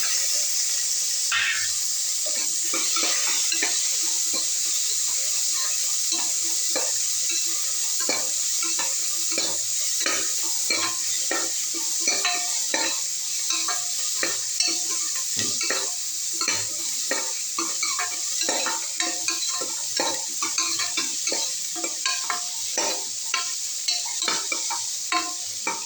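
Shallots, tomatoes and green chillies fry and are stirred in a pan for a chicken gravy, giving a steady close sizzle with frequent scraping spoon strokes throughout.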